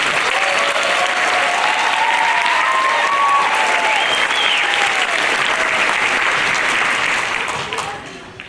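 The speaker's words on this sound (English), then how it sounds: "please let's give another round of applause for our principal school committee" Applause at a fifth grade graduation ceremony for the principal and school committee, a dense, loud, sustained crowd clapping with some cheering voices mixed in, tapering off at the end.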